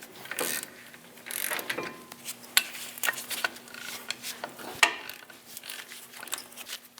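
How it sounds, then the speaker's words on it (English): An 18mm socket on a ratchet works loose the brake caliper bolts of a Chevrolet Express 2500 van, giving irregular close clicks, metallic knocks and scraping over a faint steady hum, without speech. "Using an 18mm socket, we're going to loosen the 2 caliper bolts."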